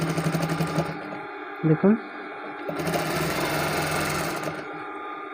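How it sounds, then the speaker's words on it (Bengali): Sewing machine running steadily while stitching piping onto the side seam of a kameez, a continuous mechanical whir that pauses briefly, with someone speaking over it. "দিয়ে আমি সোজা করে সেলাই করে দেব।"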